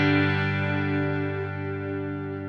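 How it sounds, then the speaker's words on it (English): Sustained chiming electric guitar chord through a Vox-style amp tone on a Headrush gig board, washed in shimmer, delay and reverb, ringing steadily and fairly loud on its own for the whole stretch. "little bit of shimmer, delay, reverb going on."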